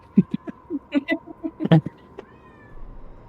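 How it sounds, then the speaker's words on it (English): A cat meows repeatedly in quick, uneven bursts, fairly close, followed by a short pause and faint background noise. "Oh, the meowing got louder."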